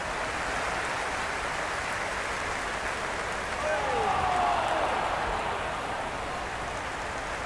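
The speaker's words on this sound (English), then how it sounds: "the crowd have joined the party. It's pretty noisy at the ground" A stadium crowd roars steadily at a cricket ground in the video game Cricket 26, during an IPL match between DC and RCB. The dense, continuous wash of noise swells slightly midway.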